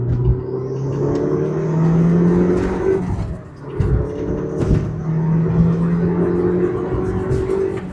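A first-generation Ford Focus RS hot hatch pulls hard along a narrow back road, its engine note rising through the gears in steady, loud revving, with a brief dip near the middle before climbing again.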